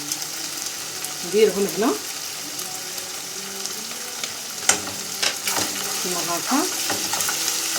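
Garlic cloves frying in oil give a steady sizzle throughout, with someone speaking over it at moments and some brief clatter of utensils.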